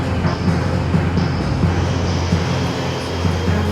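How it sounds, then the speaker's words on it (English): An airplane lands at the new Hong Kong airport, its engines producing a loud, steady roar that holds throughout with no talking. "it'll be the first plane to touch down at the new airport at 6:30 a.m."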